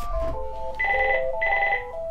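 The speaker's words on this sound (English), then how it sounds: "the phone rang again" A telephone rings with electronic tones: a short warbling trill, then two longer bursts of a bright buzzy ring, close and clear with no talk.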